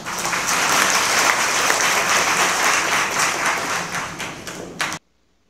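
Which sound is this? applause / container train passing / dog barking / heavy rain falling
applause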